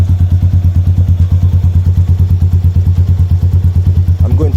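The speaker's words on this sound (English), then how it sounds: "This is what the bike sounds like with the stop muffler cut in half basically, or cut down. This is it idling." A 2019 Supra 250 Racing Edition single-cylinder four-stroke motorcycle idles with a cut-down muffler, a steady, loud, rapid thumping putter that stays even throughout, with a brief voice starting at the very end.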